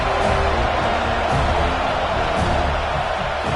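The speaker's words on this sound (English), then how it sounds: "Third down and the crowd really getting into it." Football stadium crowd at a Miami vs FSU game roaring on third down, a dense, steady wall of cheering and noise holding at full volume throughout.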